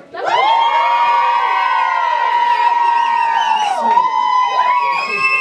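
A family group at a birthday party shouts and cheers together in a long, loud, sustained whoop, rising and falling before trailing into a few scattered yells.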